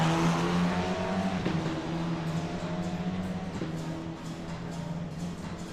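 F4 race car in a racing video game pulling out of the pit lane at Laguna Seca, its engine holding a steady, moderately loud drone with a couple of small pitch shifts, alone with no talk.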